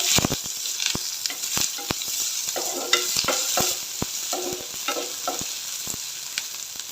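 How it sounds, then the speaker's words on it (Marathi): Sliced onion fries in oil for tomato rice, a steady close sizzle under frequent sharp scrapes and taps of a spatula stirring the pan, with no voices. "इथे एक उभा चिरलेला कांदा मी ॲड करणार आहे तो देखील व्यवस्थित गोल्डन ब्राऊन कलर येईपर्यंत परतून घ्यायचा आहे तेलावर"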